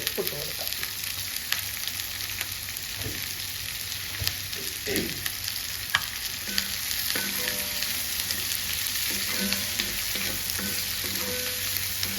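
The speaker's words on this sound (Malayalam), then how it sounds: "കൂടെ തന്നെ ഒരു സവാള അരിഞ്ഞതായിട്ട് ഇട്ട് കൊടുക്കാം." Sliced onion sizzles steadily in a hot pan with salt, a dense continuous hiss broken by occasional clinks and scrapes of stirring, close and loud with no talking.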